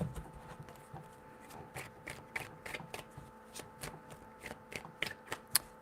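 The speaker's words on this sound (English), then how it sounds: "Three shuffles." Tarot cards are shuffled by hand in a quiet room, a quick series of soft, crisp riffling slaps in an irregular rhythm, close but faint, with no voices.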